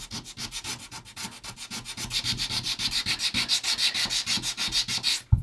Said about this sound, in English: you can grind these back on a belt sander to freshen up the sandpaper around the edge, and it conforms really nicely to these fillets